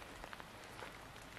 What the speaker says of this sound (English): Fire is still burning, but just started raining.